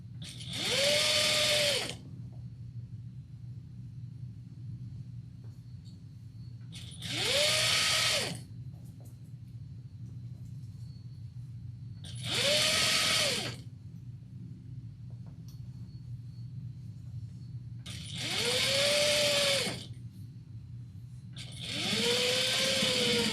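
A sewing machine runs along the side seam of a shoulder bag in five separate bursts of whirring, each about two seconds long and close by, with a low steady hum filling the quiet gaps.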